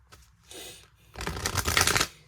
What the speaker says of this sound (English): I am going to shuffle, so it may be a little loud